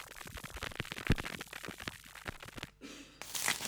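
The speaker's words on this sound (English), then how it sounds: "That's the crackling sustain" Crackling click textures from a piano sample library's effects section: dense irregular pops and snaps over a hissy noise bed, with a brief near-silent gap before the crackle swells back louder.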